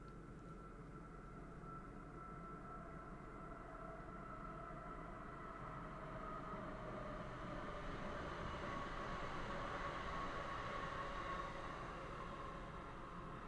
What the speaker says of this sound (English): So there are trains next to us.